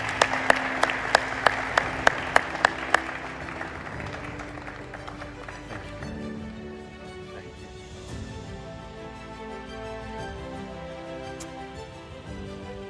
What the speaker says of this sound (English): So please join me in a round of applause for this great panel.